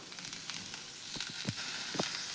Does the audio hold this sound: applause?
no